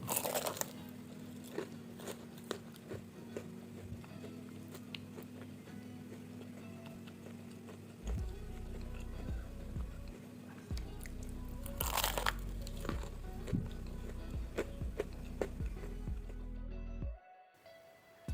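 Crisp crunching of a fried eggless snack being bitten and chewed, with repeated sharp crackly bites close up throughout and a louder stretch of crunching in the second half, no talking.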